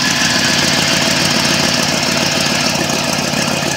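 A Chevy Silverado truck engine with a leaking exhaust manifold idles loudly and steadily nearby, with a rough, rattling exhaust puffing and ticking throughout.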